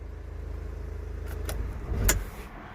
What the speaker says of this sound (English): I haven't put the turbo pipe back on, so it's going to be revving slightly funny